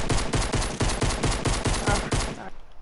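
Automatic gunfire in Fortnite: about a dozen rapid shots in a steady, even rhythm, loud and close, then a sudden stop into near silence.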